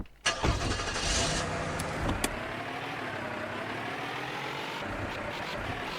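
Car in the Streamer Life Simulator game, a sharp start-up burst followed by a steady, moderately loud engine drone as it rolls along, with a couple of brief clicks.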